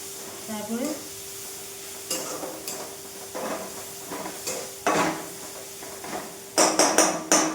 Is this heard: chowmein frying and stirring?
yes